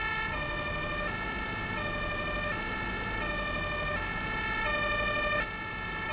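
Emergency vehicle sirens in the Farming Simulator 19 video game wail in a loud, steady repeating tonal cycle, changing pitch about every second before cutting off abruptly near the end.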